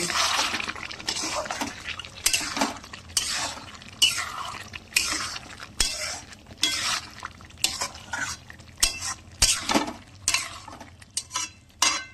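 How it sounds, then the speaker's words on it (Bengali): Mutton is stirred in a cooking pot with a utensil, giving repeated scraping and clattering strokes in an uneven rhythm over a low sizzle, close and moderately loud. "এই যে বেশ করে নাড়াতে থাকবো।"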